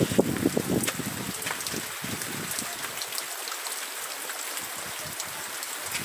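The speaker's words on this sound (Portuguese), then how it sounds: "Chuvinha que a gente está presenciando aqui no Sertão do Alegre." Light rain patters outdoors in the Sertão countryside near Sobral, Ceará, with soft scattered drops and a gentle wash of sound. A few louder ticks come near the start.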